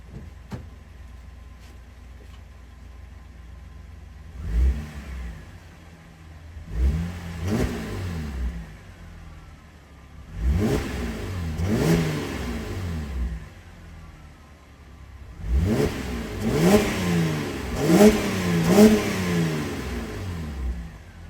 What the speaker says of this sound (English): We're gonna give her a couple revs so you guys can hear this before and after